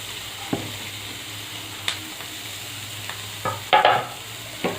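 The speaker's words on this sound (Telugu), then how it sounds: "ఇవన్నీ వేసుకున్న తర్వాత ఇలా ఫ్రై చేసుకోవాలి." Green chillies and carrots sizzle faintly in a hot pan for paneer fried rice, a steady low hiss with a few close spoon scrapes and stirring knocks, no voices.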